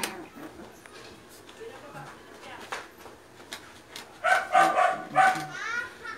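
Young puppies barking and yipping up close, a string of short high yaps that grow louder toward the end, mixed with someone talking.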